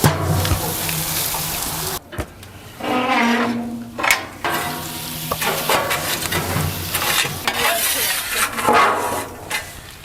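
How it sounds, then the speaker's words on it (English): Meat sizzles and crackles steadily on a hot charcoal grill, a Copperhead 60 with built-in Santa Maria grill, with brief metallic clanks of tongs or grate partway through. "That's what you want to hear right there, a nice sizzle."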